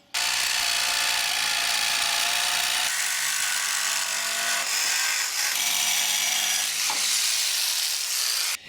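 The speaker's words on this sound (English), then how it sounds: "Jigsaw time." Jigsaw cutting through a workpiece in a workshop, a loud, continuous buzzing saw with a harsh rasp that shifts in pitch as the blade pauses and resumes, running alone.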